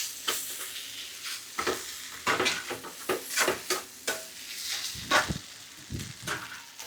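An egg and drumstick stir-fry is stirred in a hot pan, with repeated close scraping strokes in an uneven rhythm over a continuous light sizzle.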